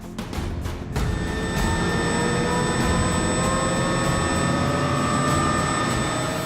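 Apache helicopter escort lifting off near a Chinook, a loud steady turbine whine with high whistling tones over a dense rumbling wash, after a short burst of noise at the start.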